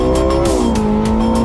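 A Porsche 918 Spyder, its 4.6-liter V8 hybrid powertrain with front and rear electric motors, screams loudly at the Nordschleife, pitch sliding down as it shifts, with a brief tire squeal, nearby and alone.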